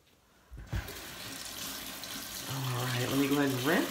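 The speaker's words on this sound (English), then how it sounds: "let me go ahead and rinse" A bathroom tap runs steadily while someone rinses after a wet shave with a Schick Krona double-edge razor. The flow starts with a splash and rises into a fuller gush as water fills a sink, heard close up.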